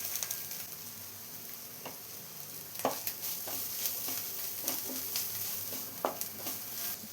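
Crushed ginger and garlic with a little turmeric sauté in a pan, a quiet low sizzle broken by intermittent scrapes and stirs of a spatula, with no talking.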